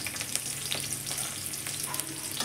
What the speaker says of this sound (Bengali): ক্যাপসিকামটা ভেজে নিলাম।